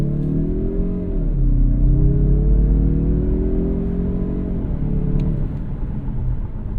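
Interior of a 2024 Mazda CX-30 accelerating from a near standstill on bumpy roads: a steady close engine drone climbs and dips through the gears, with constant road rumble and no talking.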